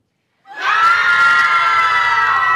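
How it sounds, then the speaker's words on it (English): Loud, sustained screaming from many people breaks out suddenly after silence during a fake school lockdown and keeps going without pause. "What's that screaming?"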